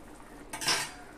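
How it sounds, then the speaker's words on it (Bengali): Drumstick vegetable pieces dropped into a cooking pot of boiling water for a rohu fish curry with potatoes, making one short, close clatter against the pot within otherwise quiet kitchen background. "এবার আমি দিয়ে দেবো সজনে ডাঁটা"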